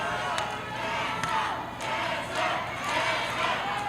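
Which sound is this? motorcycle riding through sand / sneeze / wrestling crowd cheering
wrestling crowd cheering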